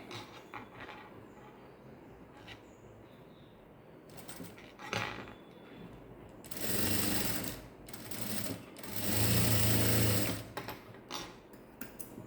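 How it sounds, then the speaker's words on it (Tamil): A sewing machine stitches lining cloth on a hand-design piece. Light mechanical clicks and short runs build to two loud, sustained bursts of rapid stitching, heard close up. "இப்போ பாருங்கள், ஒரு லைனிங் கிளாத்தை கொடுத்து நான் ஒரு தையல் போடுறேன்"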